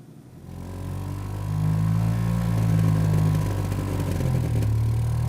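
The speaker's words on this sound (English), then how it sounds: "there was a sound starting, and that was the Vespa" A Vespa scooter engine, played as a recording, rises from quiet into a steady, buzzing mid-pitched drone that swells and holds, with small shifts in engine speed.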